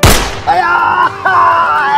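A single loud gunshot sound effect in a comic movie spoof cracks at the start, followed by a drawn-out, wavering tonal groan.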